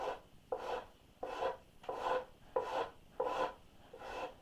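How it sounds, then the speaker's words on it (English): A farrier's or Shinto rasp files a wooden boat half-hull model in six steady, rhythmic strokes, each a coarse, close rasping push separated by brief pauses. "The farrier's rasp and these Shinto rasps are my favorites."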